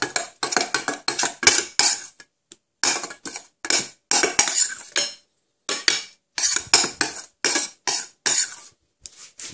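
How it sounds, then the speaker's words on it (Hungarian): A spoon scrapes pizza roll filling out of a bowl in quick repeated strokes, close and clear, with short pauses between bursts and no talk. "Semmit nem hagyunk az edényben, mindent kifaparunk."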